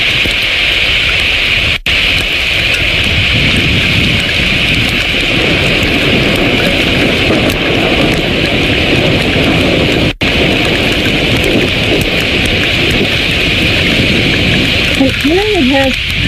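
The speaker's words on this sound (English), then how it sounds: "Hail and lightning." A night hailstorm with lightning at an osprey nest beats down in a steady, dense roar of pellets and rain, loud and unbroken throughout, with a brief faint bird call near the end.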